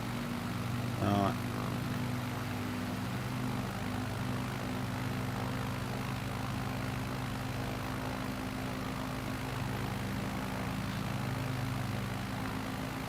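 Airplane engine droning steadily in Microsoft Flight Simulator during a flight over the UK, a constant propeller hum throughout, with a brief tonal sweep near the start.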